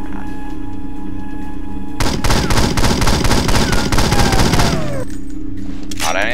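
Rapid automatic gunfire from a gun turret in the PC game 007 Nightfire, a dense loud burst of shots lasting about three seconds, then cutting off, over steady game background noise.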